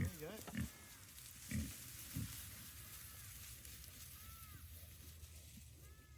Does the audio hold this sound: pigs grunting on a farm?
yes